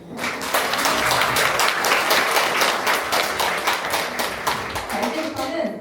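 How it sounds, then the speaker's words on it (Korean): An audience applauds at a school book-launch talk in Korea, a full, dense burst of clapping that swells at once and carries on steadily, with a few sharper claps standing out near the close. "큰 박수 부탁드립니다."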